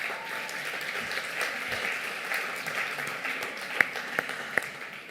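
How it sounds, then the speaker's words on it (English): Awards-ceremony audience in Bengaluru applauds and cheers steadily, a dense wash of clapping with a few sharper claps standing out near the end. "the loudest cheer and the loudest applause"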